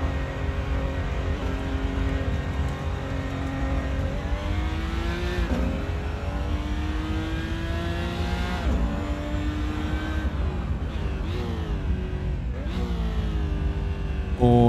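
A race car engine in the video game Assetto Corsa, driven on the Nordschleife, revs up and down repeatedly, whining through gear changes in a continuous synthetic-sounding drone.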